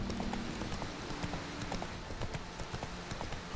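Horse hooves clip-clop in a quick, rhythmic gallop across The Witcher 3 game world, steady and fairly soft, continuing throughout without voices.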